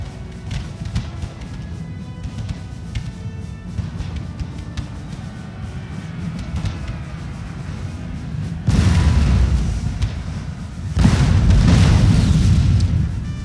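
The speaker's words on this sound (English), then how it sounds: "Watch this grape shot blast here" Grapeshot cannon fire in a France versus Russia battle video game set in Northern Italy. Continuous distant battle rumble and scattered shots build into two heavy, booming blasts that each roar for a couple of seconds.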